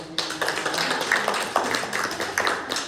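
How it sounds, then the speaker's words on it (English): A small audience at a violin and viola master class applauds, a dense run of close clapping that continues steadily throughout. "Let's give a round of applause to Hannah."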